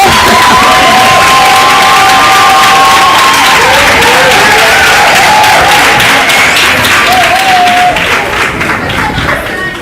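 A school crowd at a port open day bursts into loud, continuous applause and cheering, with whistles and children shouting mixed into the dense clapping, and the roar tapers slightly near the end.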